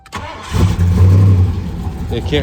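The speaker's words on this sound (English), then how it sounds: "So we'll start the car" A 1988 Mercury Cougar with excessive crankcase vacuum cranks briefly and catches, settling into a loud, close idle with a short rise in revs; a voice speaks at the very start.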